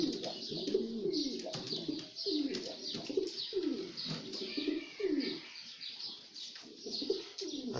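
Pigeons coo in repeated low, throaty rolling calls close by, layered with faint chirps and an occasional flutter of wings.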